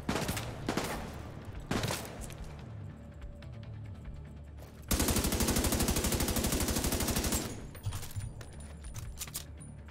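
Automatic gunfire in The Division 2, set in a fight through tear gas: a long, loud burst of rapid shots with scattered single reports and clatter before and after it.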